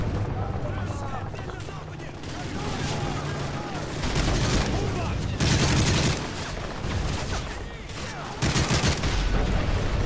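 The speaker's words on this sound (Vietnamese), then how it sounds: "Núp theo đuôi chiếc xe tăng này bị tụi nó bắn hoài à." Dense gunfire in the video game Call of Duty Modern Warfare 3, near a tank: continuous loud automatic fire and booming shots with rising intensity in bursts, while people talk over it.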